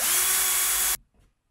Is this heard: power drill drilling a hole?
yes